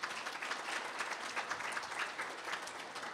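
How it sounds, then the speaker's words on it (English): A room full of people applauds steadily at a Hampton City Schools Citizen of the Month recognition event, a dense, even patter of many hands heard at moderate distance and fairly soft. "So give yourselves another round of applause."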